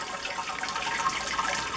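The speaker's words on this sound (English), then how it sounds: "We have to put hot water, sparging water, in the top" Hot sparging water poured into the top of a Grainfather brewing system, a steady close gurgling splash with no pauses or talk.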